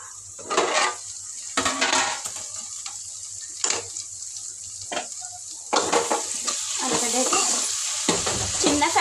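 Crushed garlic frying in oil over low heat, with steady sizzle under repeated scraping and stirring strokes against the pan and occasional clinks of a utensil.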